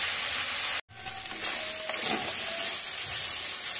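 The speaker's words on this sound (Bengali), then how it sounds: "একটু বেশ কড়া করে ভেজে নেব চিংড়িটাকে" Prawns fry hard in a pan for pumpkin-prawn curry, a steady close sizzle and hiss with a brief cut near the start and faint scrapes of stirring.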